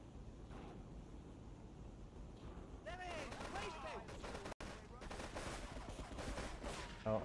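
Rapid AK rifle fire from the game GTA III, set against an ocean-like wash, rattles in dense bursts at moderate volume and breaks off for a moment partway through, while someone talks over it.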